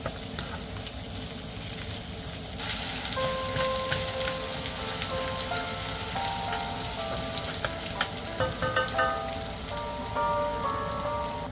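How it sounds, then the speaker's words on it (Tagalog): Garlic and onion sautéing in a hot pan for an Ilocano buridibod dish, a steady crackling sizzle with scattered pops, close and continuous, no talking. "Habang iginigisa ang bawang at laso na, amoy pa lang, nakakagutom na."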